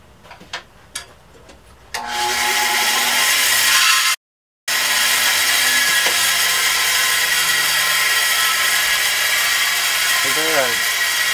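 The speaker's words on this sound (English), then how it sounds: "So I'm going to run these two through my bandsaw real quick" A bandsaw runs and cuts through wooden braces for a guitar top: a few quiet knocks first, then a loud steady whirring cut, a brief break, and the saw droning on with the blade's pitch wavering.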